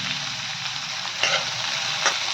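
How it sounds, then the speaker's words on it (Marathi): Rice with vegetables and fresh coriander is stir-fried over a full gas flame for an Indian vegetarian dinner, producing a steady, loud sizzle with a couple of brief louder stirring scrapes and no voices. "असं छान असं परतून घ्यायचं फुल गॅसवरती।"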